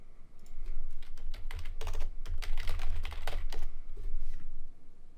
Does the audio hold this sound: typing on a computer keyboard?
yes